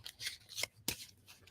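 Tarot cards are shuffled by hand during a live reading, giving a few quiet, brief riffling and sliding bursts close by.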